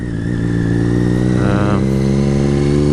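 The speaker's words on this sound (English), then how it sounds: "this exhaust is so loud" A Triumph Street Triple's loud, raw straight-pipe exhaust drones steadily up close, a deep throbbing rumble that rises briefly in pitch partway through.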